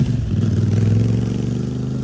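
A twin-cylinder motorcycle engine runs steadily, a deep pulsing mechanical throb with an even rapid beat, close and fairly loud.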